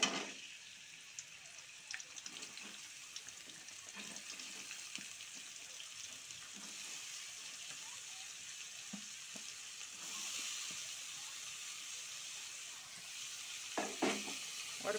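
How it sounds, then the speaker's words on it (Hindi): Onions frying in ghee for a Goan chicken curry: a steady, soft sizzle fills the clip, broken by occasional scrapes and taps of stirring, with a brighter burst near the end. "2 चम्मच डाल रही हूँ घी। घी का टेस्ट बहुत अच्छा आएगा। और अभी इसके अंदर मैं ये प्याज डाल रही हूँ।"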